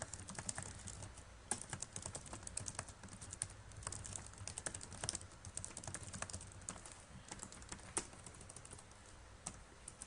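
Steady, rapid keystrokes on a computer keyboard while entering text in WordPress, close and continuous with uneven rhythm and no speech.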